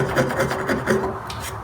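A chisel pares across the grain of a wooden board to cut a housing joint, giving a few close, dry rasping scrapes in a quick uneven rhythm with no talk.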